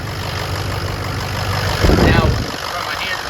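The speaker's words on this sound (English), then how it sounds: "I hear air from the freaking exhaust" A Powerstroke diesel engine idles with a steady low chug, and a hissing whoosh of air escaping from a leaking exhaust swells briefly near the middle of the clip.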